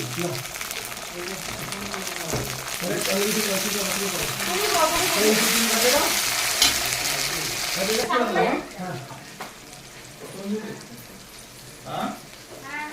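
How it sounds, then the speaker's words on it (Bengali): Chopped tomato hits a pan of fried onions and sizzles, a broad hiss swelling and holding for several seconds before easing, with a person talking throughout and over the quieter sputtering afterward. "আমার পেঁয়াজটা ভাজা হয়ে গেছে, এখন আমি দিয়ে দেবো টমেটো কুচি।"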